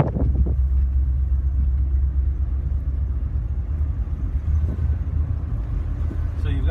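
A 1966 Thunderbird's engine rumbles loudly and steadily during a slow test drive, a low droning road hum with slight surges as it shifts into second gear, heard without talk.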